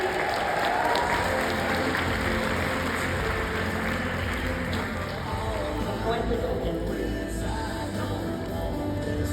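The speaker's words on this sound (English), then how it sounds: "How about another round of applause?" Sustained audience applause following a fundraising speech at a company event, loud and dense across the whole stretch with a crowd murmur underneath.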